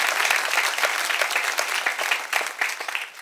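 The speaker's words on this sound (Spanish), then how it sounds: "Un aplauso para Carla" A comedy-show audience applauds for Carla, a steady wash of many hands clapping close and loud for about three seconds, thinning slightly toward the end.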